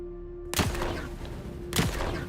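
Two loud scattergun blasts in Dune: Awakening ring out about a second apart, each a sharp boom with a short decay, over a low steady hum.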